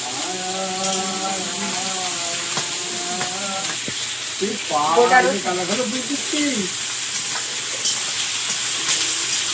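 Food lightly frying in a pan in a village kitchen, a steady hiss with scrapes of stirring, while a person's voice is briefly heard in the background.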